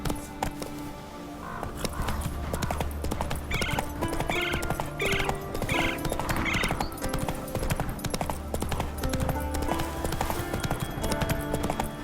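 Roach the horse from Witcher 3 gallops with rapid, steady hoofbeats and lets out a run of loud whinnies, set against game music and ambience.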